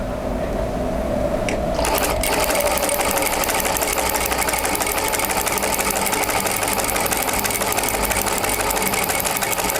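High-speed industrial sewing machine fitted with a YS-STAR 4455 buttonhole attachment runs at speed, a dense rapid mechanical chatter that starts after a short lead-in and continues steadily and loudly, close by with no talk.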